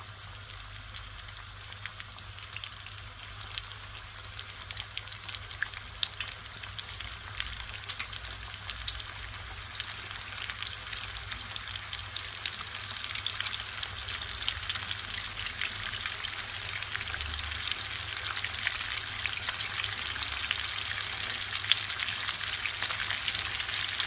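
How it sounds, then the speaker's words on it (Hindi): Coated chicken pieces fry in hot oil, a dense continuous sizzle with fine crackling and popping that grows busier and brighter over time, close and steady with no talk. "अब हम ये कोटिंग की हुई चिकन डाल देंगे।"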